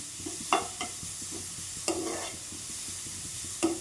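Grated beetroot sautéing in oil over low heat, a soft continuous sizzle broken by periodic scraping stirs, close and moderately quiet with no talking.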